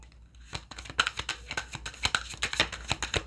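A deck of cards being shuffled for a spiritual message reading, heard as a quick run of crisp riffling flutters and taps close by, with no talking.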